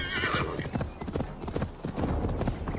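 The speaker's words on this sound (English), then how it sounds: "O cavalo tá queimando fôlego muito rápido" Horse galloping in the video game Assassin's Creed Valhalla, a fast, even clip-clop of hooves with a short whinny at the start, close and loud, while someone talks over it.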